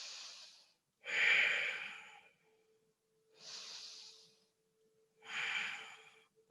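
Deep, slow breaths held in a yoga pose, four long airy inhale and exhale cycles spaced about a second apart, close and clear with no talking, a faint steady hum underneath.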